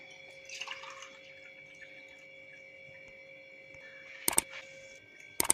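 Soaking water poured into a pot of soaked native kavuni rice before pressure cooking, heard as brief splashy pours near the start and end over a steady kitchen hum.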